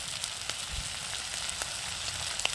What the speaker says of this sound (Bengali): কাঁকড়াগুলো কিন্তু আমি ভেজে নিচ্ছি ভালো করে